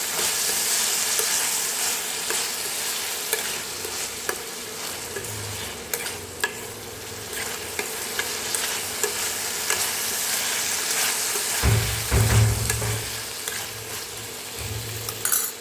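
A potato and pea curry base roasts in a pan while being stirred, a steady close sizzle with frequent scraping strokes and a low rumble in the second half.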